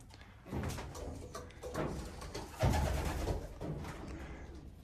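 Pigeons, including white, roller and racing birds, coo in a loft: soft, repeated throaty calls layered over one another, close and steady throughout, with no talking.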